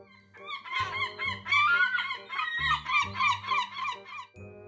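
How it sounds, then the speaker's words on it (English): A seagull call: a close run of harsh, honking squawks and cries in quick bursts, over a soft low tonal bed. "Seagull."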